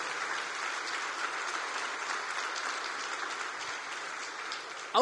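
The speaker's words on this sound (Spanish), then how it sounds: "Vamos a darle fuerte ese aplauso al Señor." A church congregation claps loudly and steadily throughout, a dense, sustained wash of applause with no break, ending with a brief sharp sound.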